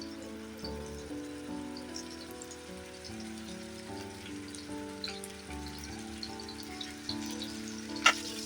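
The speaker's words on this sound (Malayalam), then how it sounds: "അതേ ഫ്രൈ പാനിൽ 2-3 സ്പൂൺ എണ്ണ ഒഴിച്ചിട്ട് ഈ ചിക്കൻ ഫ്രൈ ചെയ്യാൻ പോവുകയാണ്" Chicken fries in two to three spoons of oil in a frying pan, giving a steady, soft crackling sizzle that runs throughout beneath faint background music.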